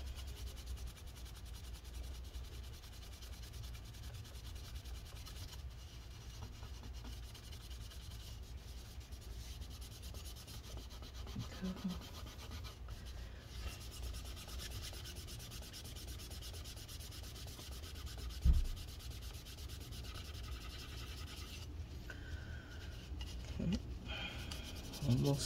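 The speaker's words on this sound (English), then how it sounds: "Continue cleaning this." Steady scrubbing and rubbing of 2019 16-inch MacBook Pro A2141 internal parts with rubbing alcohol, a continuous close-up abrasive swishing with a few small knocks and no talk.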